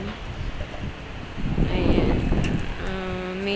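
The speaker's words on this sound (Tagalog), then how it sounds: "dito sa taas, ramdam mo pa rin yung lakas ng hangin" Gusty wind buffets the microphone beside flooded Roxas Boulevard, swelling louder midway, with a brief spoken word and a faint tonal hum near the end.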